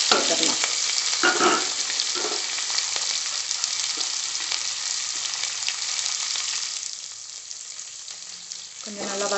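Steady, crackling sizzle of shallots and garlic frying in hot oil, with occasional stirring scrapes and clatters throughout.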